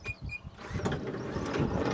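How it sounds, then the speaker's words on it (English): Power sliding door on the left side of a black Nissan Elgrand XL with leather interior, whirring and clunking mechanically after a faint beep, a steady motor drone building over two seconds up close. "This car's got a power door on the left side."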